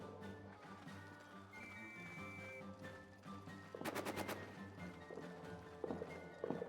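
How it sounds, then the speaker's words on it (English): A quick rattling burst of machine-gun fire breaks out in the First World War trench game All Quiet in the Trenches, faint and distant, over a droning music bed with a few more scattered shots afterward. "That machine gun go."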